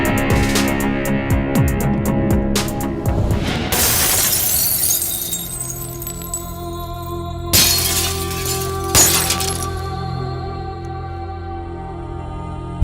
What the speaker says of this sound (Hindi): कांच टूटने की आवाज सुन के